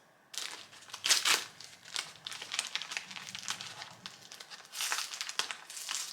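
Crinkly packaging and paper being torn and rustled as a gift parcel is opened, with bursts of crackling and crumpling that rise and fall over several seconds, fairly close and alone.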